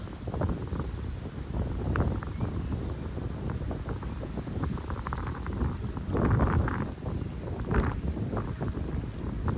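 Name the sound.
wind outdoors in a park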